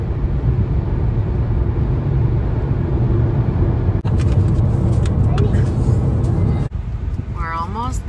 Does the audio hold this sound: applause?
no